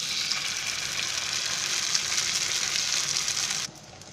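Bread slices toast on a hot oiled pan, giving a continuous, fairly loud sizzling hiss that holds steady, then drops away abruptly near the end.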